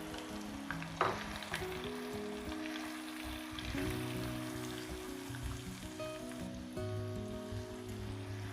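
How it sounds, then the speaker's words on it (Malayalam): A paste of ground onion and green chilies sautés in a pan over medium-low flame, giving a steady, close sizzle throughout with a brief clatter near the start. "മീഡിയം ടു ലോ ഫ്ലെയിമിലിട്ട് നന്നായി വഴറ്റിയെടുക്കുക."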